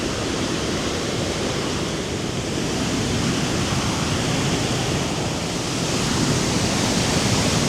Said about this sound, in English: it's just too noisy. There's so much water flowing down.